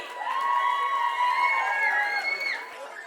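An audience at an Onam celebration in Derby cheers and whoops as dancers come on stage for a Thiruvathira performance. The crowd noise is loud and sustained for about three seconds, with shrill whoops and calls riding over it.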